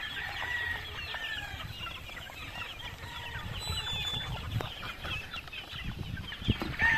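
Chickens, chicks and a rooster on a farm make steady overlapping clucks and soft cheeps throughout, with busy poultry chatter near and far and a louder cluck near the end.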